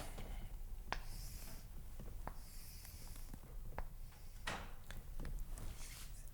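A pen or marker scratching out a math diagram on paper or a board, with short faint strokes and taps spaced irregularly, quiet and close, with no speech.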